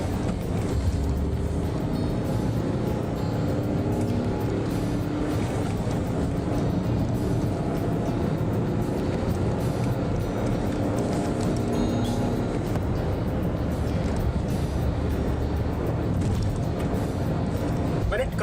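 A Hyundai Grand i10 with a 1.1 litre diesel engine accelerates hard through the gears, giving a steady loud drone of engine and road noise from inside the car, with speech mixed in.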